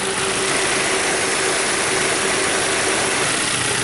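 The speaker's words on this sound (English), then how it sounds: "I've got the engine running" A 1999-2007 Ford Focus engine idles with the air conditioning switched off, giving a steady, close mechanical hum with a faint ticking texture that stays even throughout, with no talking.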